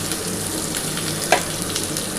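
Potatoes, pointed gourd and green banana fry in oil in a pan as ridge gourd is added, giving a steady close sizzle with one brief clatter midway and no voices.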